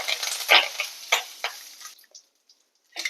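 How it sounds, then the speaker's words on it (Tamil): Dry chillies, garlic and curry leaves roasting in a pan give a few close scraping, rustling stir strokes over a soft crackle, then fade into near silence with one last short stir at the end. "கருவேப்பிலை எல்லாம் நல்லா வறுத்தாச்சு."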